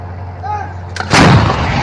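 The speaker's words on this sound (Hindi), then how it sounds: "ये सन 2000 के बाद हो रहा है कि इजराइल की आर्टिलरी और तोपें सीधा लेबनान के अंदर तक घुस चुकी हैं।" Israeli artillery fire in Lebanon: a faint whistle gives way to one loud, close blast with a heavy rumbling tail.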